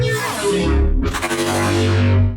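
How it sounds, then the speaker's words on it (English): A nasty Dark Trooper growl bass synth preset, thick and distorted, plays loud and alone in two sustained phrases with a brief dip near the middle and heavy low-end weight throughout. "So next up is the Dark Trooper growl bass."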